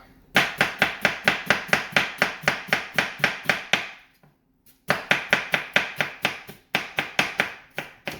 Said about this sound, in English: And now we can just chop.